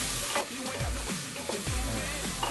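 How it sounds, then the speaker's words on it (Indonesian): Onion, ginger and turmeric sauté in a pan with a steady, close sizzle and occasional stirring scrapes, and no talk over it. "Jadi ini kita tumis sampai semuanya harum."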